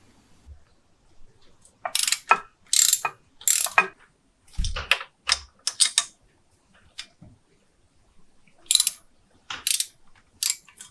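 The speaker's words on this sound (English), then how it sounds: "Now you want to remove the 2 header bolts," A ratchet clicks in repeated bursts on 12mm header bolts of a Honda CRF 300 exhaust, sharp close ratcheting strokes separated by short pauses, with a dull knock or two of metal in between.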